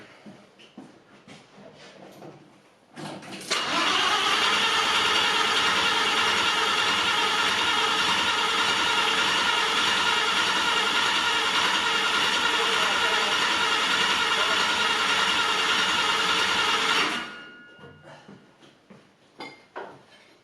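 A rebuilt Corrado VR6 Turbo 4WD engine runs for about fourteen seconds, a loud, steady, dense roar that cuts in abruptly and stops just as suddenly, with quieter background noise before and after.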